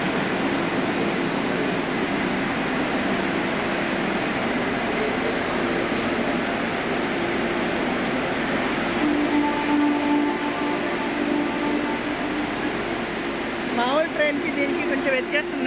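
A passenger train pulls into a railway station platform near Renigunta and Tirupati, a steady loud rumble with brakes squealing faintly near the end, under continuous crowd noise and nearby talk.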